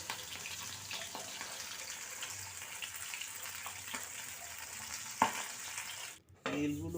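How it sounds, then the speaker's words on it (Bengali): Pabda fish fry in a pan with a faint, even sizzle and an occasional light tap, and the sound changes abruptly near the end. "এখন ভেজে নিচ্ছি মাছ পাবদা মাছগুলোকে দুটো ভেজে নিয়েছি আর দুটো ভেজে নিচ্ছি"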